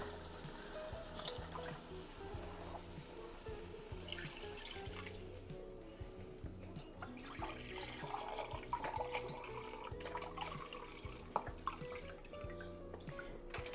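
Low sodium chicken broth pours steadily into a pot of tomato bisque, a soft continuous liquid splash and trickle heard faintly beneath a hum of background noise.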